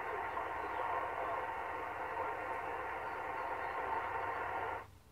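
Yaesu FTdx-560 amateur radio transceiver receiving a signal, a steady loud band of hiss and static held for nearly five seconds before cutting off abruptly near the end.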